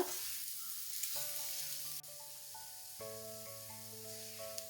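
Okra fries in a pan over medium-high heat with a steady, close sizzle, joined by a sustained electronic musical tone and no talking.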